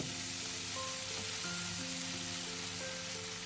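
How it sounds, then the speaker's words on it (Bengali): Fried onions sizzle steadily in a pan over a low flame as drained flattened rice is added, a continuous, even frying hiss with no talking. "পেঁয়াজ ভাজা হয়ে গেল আগে থেকে জল ঝরিয়ে রাখা চিড়েটা এবার দিয়ে দেবো"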